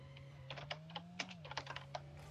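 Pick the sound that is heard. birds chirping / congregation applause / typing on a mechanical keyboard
typing on a mechanical keyboard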